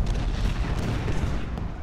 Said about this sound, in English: The cannons are still firing, are they?